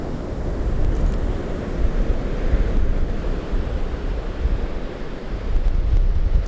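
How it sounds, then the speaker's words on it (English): Ocean waves crashing onto rocks along the shore, a steady roar of surf with rolling swells, heard up close amid wind noise and no talking. "I just have to wait for a nice big juicy wave, crash up on those rocks"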